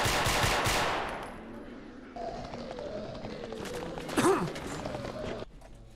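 Gunfire in the survival horror game Fallout 4: a burst of loud rapid shots at the start, then quieter scattered shots and movement sounds, with a sharp single report near the end.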